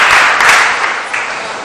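Brief, loud burst of audience applause at a business summit in Argentina welcoming the central bank president, dense clapping that starts to fade toward the end.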